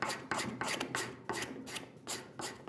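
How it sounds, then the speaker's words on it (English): A card scraper works the internal curve of a wooden saw hanger in short, rasping strokes, about seven close scrapes in a quick uneven rhythm. "So I'm going with a scraper now, just a card scraper,"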